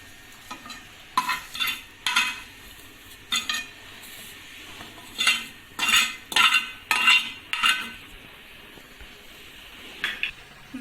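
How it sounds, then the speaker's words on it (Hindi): A spoon stirs sheer kurma in a pot over low flame, giving a series of close metallic scrapes and clinks in uneven bursts over a faint simmering sizzle. "आहिस्ता आहिस्ता चम्मच चलाते जाएंगे"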